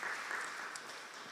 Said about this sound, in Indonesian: Beri tepuk tangan dong buat istri saya.